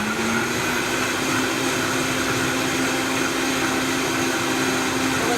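A Vitamix blender running on high speed gives a constant motor whine with a steady tonal hum beneath a dense, even whirr.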